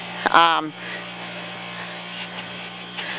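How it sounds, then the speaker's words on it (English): A brass polishing machine with a coarse wheel and green compound runs with a steady electric hum and high whine, nearby and constant, with a brief voice near the start. "And this is our brass polishing machine here."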